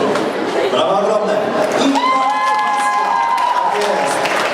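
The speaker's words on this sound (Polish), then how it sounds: "Brawa ogromne." Audience applause at a dance school's stage show, a dense, steady clatter of clapping lasting throughout, with tonal music or voices running underneath.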